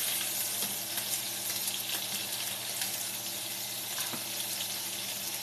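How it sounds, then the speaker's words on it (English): Sausage and peppers simmering in sauce, a dense steady bubbling sizzle up close with occasional spoon clicks and scraping as it is stirred, no talking. "Give this another stir."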